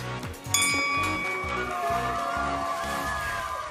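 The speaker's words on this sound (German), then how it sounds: "Und jetzt die Glocke." A single bright bell strike rings out and sustains to stop the clock on a timed run in a children's TV game show, sounding over steady rhythmic background music.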